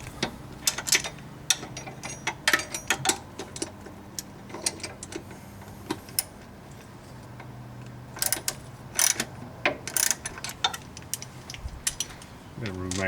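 A ratchet tightening a bolt on the differential of a 2012 Honda Foreman ATV, with rapid clicking bursts and metallic taps in irregular runs, close up.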